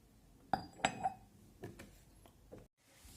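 A small ceramic milk jug bought at a flea market is handled, giving a few quiet clinks and taps close by, spaced over a couple of seconds with no voices.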